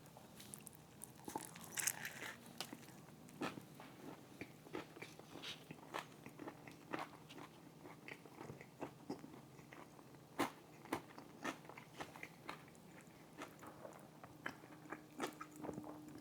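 Someone bites into a jalapeno fried chicken sandwich and chews steadily, with soft crunches and wet mouth noises repeating close and quiet throughout.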